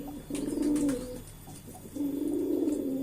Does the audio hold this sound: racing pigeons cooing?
yes